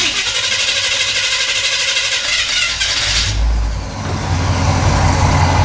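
A 1950 Ford F1 truck engine running close by, a rough, loud idle with a steady low rumble that dips briefly and then settles back into a heavier idle.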